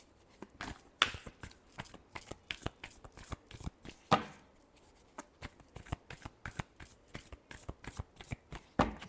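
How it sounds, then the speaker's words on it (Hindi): A deck of tarot cards is shuffled by hand up close, with a rapid run of crisp riffling flicks and soft card slaps repeating in quick bursts. "Last shuffle."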